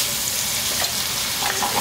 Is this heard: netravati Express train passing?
no